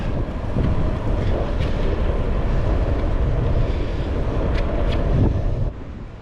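Steady wind buffets the microphone while cycling along the coast in Taiwan, a loud continuous low rumble with gusts over about six seconds and no talk.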